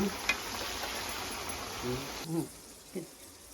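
Green chilies and curry leaves fry in hot oil in a home kitchen, making a faint, steady sizzle that fades partway through, with a few soft pops.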